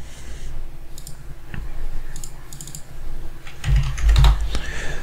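Keys on a computer keyboard typed in short bursts to enter a value into a PLC monitor table: fairly close, irregular clicking, with a few heavier thumps near the end and no talking.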